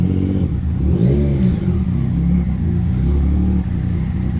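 A Yamaha TMAX scooter engine revs with a steady, loud, close rumble that rises and falls slightly, with no talking.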